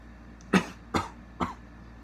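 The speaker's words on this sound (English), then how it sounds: "Excuse the cough." Three sharp coughs from a person getting over an illness, spaced about half a second apart, close and fairly loud, each a short harsh burst with quiet between.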